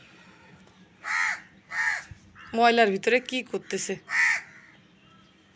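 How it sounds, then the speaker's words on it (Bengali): A crow caws loudly and close by in a series of harsh, repeated calls, some in quick bursts, while a person speaks between and over the calls. "আর এই যে কাকা এসে ডাকাডাকি করছে"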